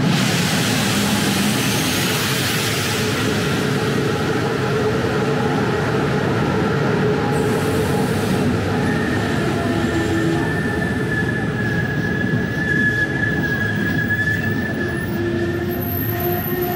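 A train arriving at a station in Brasov, Romania rumbles steadily nearby with a broad rolling roar and faint wheel squeals drifting in and out, no voices over it.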